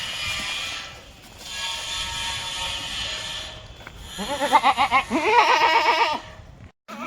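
Kathiawadi goats, brought from the Bhavnagar forest region and being sold, bleat in a loud nearby burst of wavering repeated cries partway through, with muffled background noise and clatter before and after.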